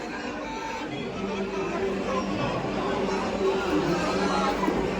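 Dense crowd chatter at the Anganewadi Bharadi Devi temple fair, a steady hum of many voices babbling together at a moderate distance, with someone speaking over it.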